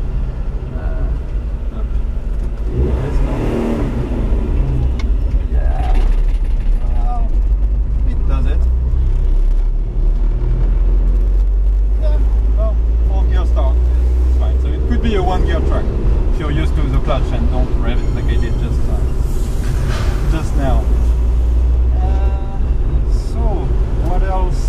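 A 1989 Mitsubishi MiniCab 550cc kei truck drives along held in fourth gear, its small engine giving a steady low drone with road noise throughout while someone talks over it from inside the cab.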